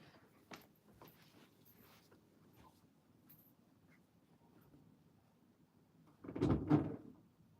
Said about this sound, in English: I'm gonna go close the door.